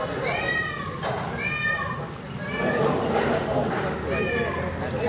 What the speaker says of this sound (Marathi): कसली बोली झाली मांजर